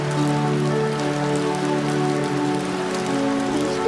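Rain pours steadily outside in an animated cartoon scene, making a dense, even patter that stays constant throughout with no talking.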